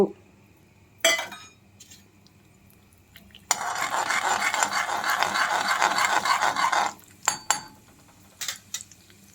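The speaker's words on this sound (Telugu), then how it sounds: "నూనె కాగింది ఆవాలు మినపప్పు" Mustard seeds and urad dal spluttering in hot Sundrop sunflower oil while tempering buttermilk uppidi pindi: a dense, close crackling sizzle lasting a few seconds, framed by sparse utensil clinks before and after.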